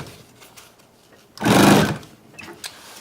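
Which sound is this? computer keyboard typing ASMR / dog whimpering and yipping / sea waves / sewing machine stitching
sewing machine stitching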